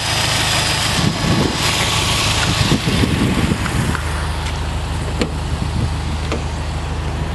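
A 2013 Subaru WRX STI fitted with a Process West top-mount intercooler runs close by, giving a steady, rough engine rumble with a constant hiss and no pauses.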